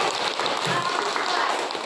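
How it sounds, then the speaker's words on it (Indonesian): Applause from a classroom of seventh-grade students for a student group, a steady, dense patter of many hands clapping that fills the whole moment at a fairly close distance. "tepuk tangan untuk kelompok visual"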